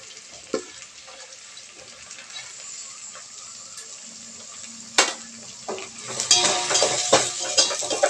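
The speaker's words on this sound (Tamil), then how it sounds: "இப்போ இது கூட நம்ம வந்து தக்காளி, காளான் எல்லாம் போட்டு மறுபடியும் கொஞ்சம் ஃப்ரை பண்ணணும்" Onion, tomato and mushroom fry in a pan with a soft continuous sizzle, broken by clinks of a utensil and a louder burst of hissing as more ingredients go in toward the end.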